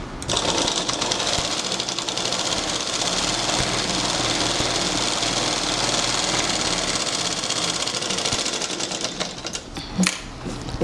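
A sewing machine runs steadily, stitching a French seam in a tailoring lesson, its fast mechanical whir continuous and close for the whole stretch before easing off with a brief knock near the end.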